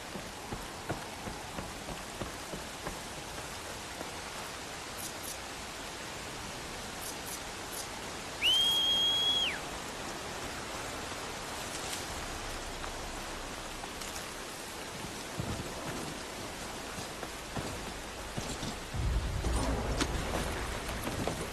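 Steady soft rain hisses throughout in Horizon Forbidden West, with a low rumble of thunder building toward the end and a brief tonal chirp partway through.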